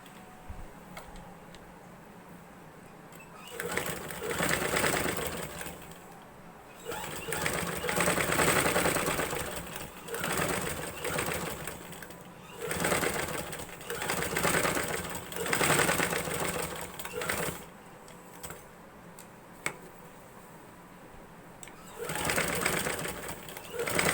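A sewing machine stitches a frock in repeated bursts of a few seconds each, a close, fast mechanical whir separated by short pauses.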